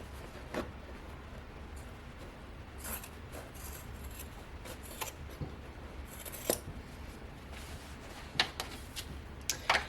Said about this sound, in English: next we are going to trim down the seam allowances